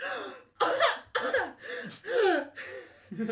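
A close, loud run of about five raspy coughs comes in uneven bursts with short pauses between them.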